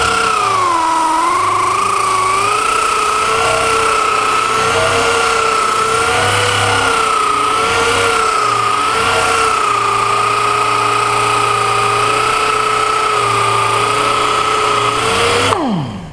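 An angle grinder works continuously on a thin sheet-metal body panel, held in one spot so the panel overheats; a loud, steady high whine with wavering pitch runs alone for about fifteen seconds before spinning down at the end.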